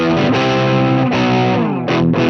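Loud, saturated distorted electric guitar through a POD Go amp modeler using the Greenback 25 cabinet model, with sustained power chords and a short chord change near the end.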